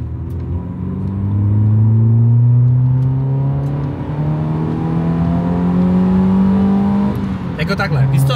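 A BMW E90 with a loud exhaust revs while driving, its engine note climbing steadily as it pulls, then easing before a brief burst of crackle near the end, close and dominant, with a voice faintly mixed in.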